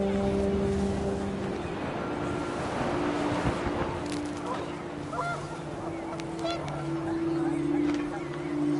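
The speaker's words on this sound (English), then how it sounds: "panicked geese appeared and quickly went" Panicked geese honking in the video game What Remains of Edith Finch, scattered calls over gusting wind and a low, washing outdoor ambience.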